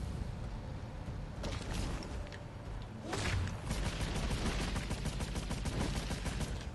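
Gunfire in the VR game Scavengers Odyssey: a few sharp shots ring out over a constant background rumble of game sound, moderately loud and close.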